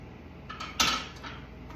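A small bowl clinks as it is lifted out and set down in a home kitchen, with one bright ceramic knock and a few soft clatters nearby, and no talking.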